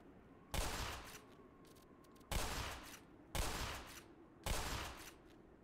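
Four heavy gunshot blasts from a weapon in the video game Black Mesa, fired at irregular intervals, each with a booming tail, over a low steady background hum.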